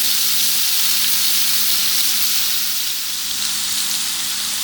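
Egyptian kofta browning on high heat in a hot pan gives a loud, continuous hissing sizzle of frying oil. It holds steady throughout with no voices.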